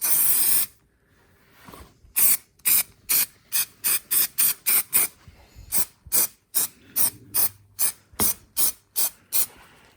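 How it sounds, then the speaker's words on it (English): Spray adhesive hisses from an aerosol can in a long run of short, sharp bursts, roughly a dozen and a half evenly spaced puffs after an opening blast and a brief pause, close and fairly loud with no talking. "I've got some spray adhesive that I don't remember where it came from"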